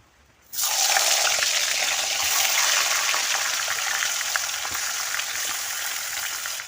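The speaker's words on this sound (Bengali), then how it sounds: "কড়াইতে তেল গরম হয়ে গিয়েছে আমি মাছটা ভেদ দিয়ে দেব" Pomfret fish drops into hot oil in a wok and bursts into a loud, sudden sizzle that holds as a close, dense, steady frying hiss for several seconds, easing slightly toward the end.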